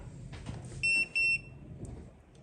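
A digital multimeter set to continuity mode gives two short, shrill electronic beeps in quick succession during phone speaker repair work, crisp and close over a faint background hiss.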